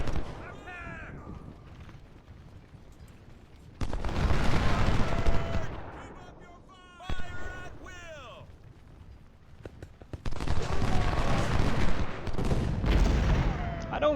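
Cannon and musket gunfire from an 1862 Civil War battle in the strategy game Ultimate General: Civil War, fired from a hilltop. Dense bursts of firing come in two long stretches with quieter gaps between them, and someone talks over parts of it.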